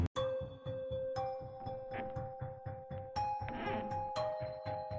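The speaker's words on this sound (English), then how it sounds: "The chimes rang out, the audience bought it." Bright chimes ring out again and again in a steady, sustained pattern, their tones layered over a low repeating pulse, loud and close with no talking.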